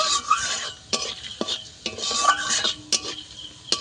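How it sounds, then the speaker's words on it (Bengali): Whole spices (cinnamon, cardamom, cloves, dried chilli and cumin) are fried in a pan, with a light sizzle broken by repeated scraping stir strokes and small clinks of a utensil against metal. "ফোড়নটাকে আমি ভালো করে ভেজে নেব"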